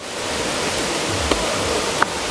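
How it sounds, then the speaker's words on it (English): Erin Ijesa waterfall in Osun State, Nigeria, roars as a steady, broadband rush of falling water throughout, with two brief sharp knocks standing out above it. "Let's do the third waterfall,"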